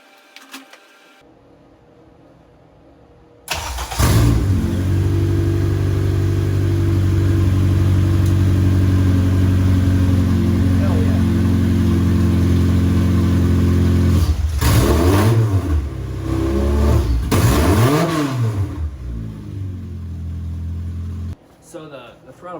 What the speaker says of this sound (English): So we'll see if it stays idling this time.